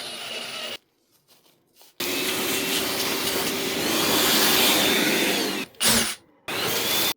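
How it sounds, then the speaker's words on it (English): A 12-volt cordless drill drives a tap into thick steel, giving a loud, steady grinding whir that starts, cuts off briefly, then resumes and runs continuously before a few short stop-start bursts at the end. "We're going to be using a 12-volt drill."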